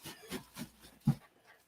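A dog whimpers softly in a few faint, short whines spaced about a quarter second apart, with one slightly louder cry near the end, quiet and alone.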